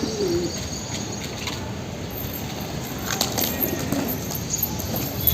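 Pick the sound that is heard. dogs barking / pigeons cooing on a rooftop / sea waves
pigeons cooing on a rooftop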